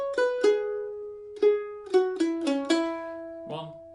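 Mandolin playing the third phrase of a bluegrass tune, a run of plucked, ringing notes in uneven rhythm with a few quick accents, close and clear with no talking.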